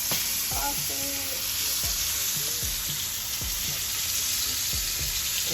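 Blackened catfish fries in a hot pan with a steady, loud hiss and crackle, broken by occasional scraping and clinking of a utensil.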